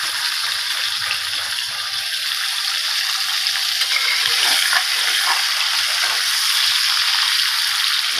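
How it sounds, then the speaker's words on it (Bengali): Potatoes mixed with turmeric and salt fry in hot oil, a steady loud hissing sizzle that runs continuously without a break. "এবার আমি ওর মধ্যে তেলটার মধ্যে আলুগুলো ভেজে নেব।"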